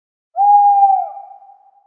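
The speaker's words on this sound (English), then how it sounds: "You know when it's time to turn the page when you hear the owl hoot" A single owl hoot serves as a page-turn signal, a clear sustained tone that fades out slowly over about a second and a half against silence.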